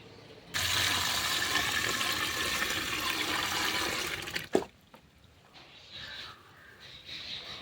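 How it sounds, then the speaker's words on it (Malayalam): Fermented rice water is poured onto vegetable waste as a rushing, splashing gush of liquid that lasts about four seconds and ends with a hollow clunk, followed by quieter handling sounds. "ഇനി ഇതിലോട്ട് നമുക്ക് കഞ്ഞിവെള്ളം ഒഴിച്ചു കൊടുക്കാം"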